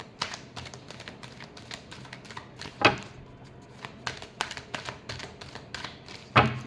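Tarot cards are shuffled by hand in quick, crisp riffling taps, a scattered run of light clicks with a couple of louder slaps, close and without talk.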